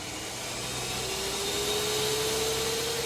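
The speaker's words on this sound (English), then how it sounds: "So I'll turn the vacuum up a bit." A restoration vacuum runs steadily in a repair workshop during cleaning of an oiled surface, a constant whirring drone with a faint rising tone, close and alone with no talk.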